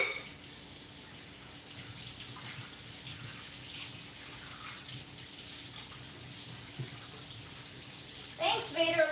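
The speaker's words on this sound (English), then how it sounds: "I need to wash my pan first, though." Water runs steadily from a kitchen tap for washing a frying pan, a constant broadband rush at moderate level with a brief clatter near the end.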